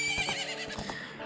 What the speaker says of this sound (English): we've now got a horse out of it